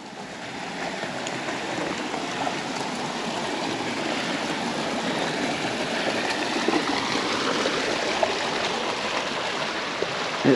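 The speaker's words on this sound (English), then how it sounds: "Couple of tiny waterfalls." Small waterfalls trickle over rocks along a Utah slot canyon trail among snake grass and willow, a steady broadband rush of running water that holds even and close throughout, with no talk.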